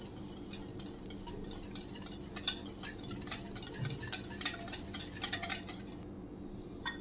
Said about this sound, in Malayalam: ഒരു വിസ്ക് കൊണ്ട് ഇതെല്ലാം കൂടെ നമുക്കൊന്ന് മിക്സ് ചെയ്തെടുക്കാം.